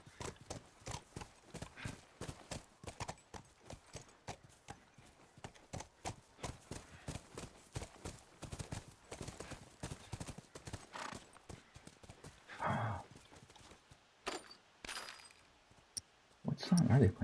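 Steady clip-clop of horse hooves trotting in the video game The Last of Us Remastered, with a brief whinny and some clinking, while people talk over it.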